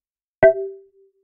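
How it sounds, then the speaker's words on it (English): One short synth note made of stacked sine waves at several pitches and fine-tuning settings from Ableton Operator, with slight LFO pitch wobble, strikes sharply and then rings out into a thin fading tail over silence. "It's just a bunch of sine waves going out at different pitches and different fine courses and a bit of"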